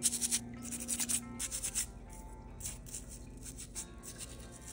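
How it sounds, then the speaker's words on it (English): A toothbrush scrubs soaked rocks such as calcite and chalcedony, giving quick repeated bristly scratching strokes close by, busy at first and then lighter and more scattered, with no talking. "Now that they've soaked in hot water, I'm just going to use a toothbrush to start to clean them up."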